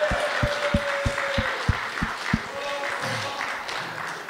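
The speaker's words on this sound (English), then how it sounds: "can we give it up and a big round of applause for our standing chefs, Darren Vardy." Applause for the chefs after a shared meal, heard as distinct, rhythmic claps close by, slowing and thinning out, with faint background murmur.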